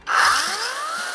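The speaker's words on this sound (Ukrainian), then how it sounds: "Тепер ми пиляємо дуб, лишилась нас ось така плашка, але цей інструмент не предназначений для цього." A Procraft PKA33 cordless saw cuts into an oak plank, starting with a sudden loud whine that holds as a bright, sustained grinding buzz close by for just over a second, with no talking.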